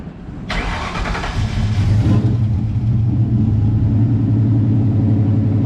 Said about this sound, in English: It's a race car, no muffler, open exhaust.